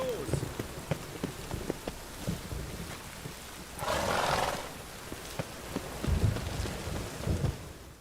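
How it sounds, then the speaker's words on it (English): Rain falling in a video game, a steady patter on surfaces with scattered sharp taps, a brief louder gust midway and faint voices underneath. "I like rain"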